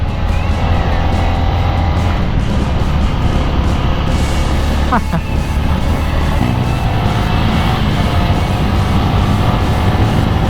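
Honda Winner X 150 motorcycle ridden gently during break-in on a smooth paved road, its engine a steady loud drone mixed with constant wind rush, with no hard revving.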